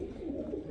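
Sialkoti pigeons, a male and female pair from Karachi, cooing softly in a low, continuous murmur close by, brief and faint.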